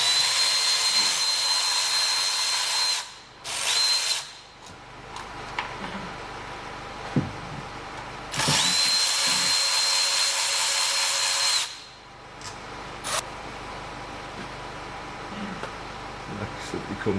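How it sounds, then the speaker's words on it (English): A power tool spins bolts out of the Haldex control module on a VW Tiguan TDI. It comes as two long, loud whirring runs with a brief stop between them, followed by quieter workshop clatter. "I'm just going to take a couple of bolts out of it to drop it down so I can get access to the plug at the back."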